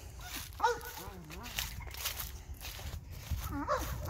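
A dog gives a few short, excited barks and yips, with a high whimpering note near the end, over faint background noise.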